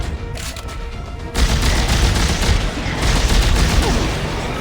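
Gunfire in the Dead Space 3 video game, a dense loud burst of rapid shots that kicks in after a quieter opening and continues as sustained crackling fire.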